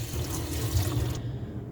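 Tap water runs steadily into a sink while the filter from a De'Longhi Magnifica S coffee machine's water tank is rinsed, a close, continuous splashing flow that cuts off abruptly near the end.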